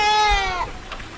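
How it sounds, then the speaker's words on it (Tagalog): A male goat on a farm gives one loud, wavering bleat up close, fading into a short breathy tail, alone without talking. "Yung mga kambing natin dito, yung mga lalaki."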